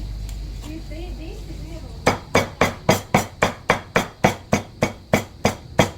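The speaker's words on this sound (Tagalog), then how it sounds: "Tadtad ng lechon." Steady, heavy knife chops through roast pork cheek on a cutting board, about a dozen evenly spaced thuds after a low background hum, close and sharp.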